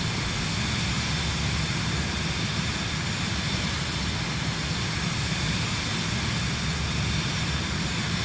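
A Vision Jet G2 in Microsoft Flight Simulator 2024 produces a steady, continuous jet engine roar with broad rushing noise throughout, even and unbroken, with no talk.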